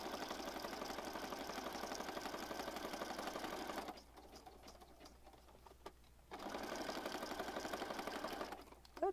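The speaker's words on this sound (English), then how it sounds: "I'm just stitching around this outside edge." A sewing machine stitches steadily around the outside edge of a paper ephemera piece, a dense mechanical whir that stops for about two seconds midway, then resumes at the same pace.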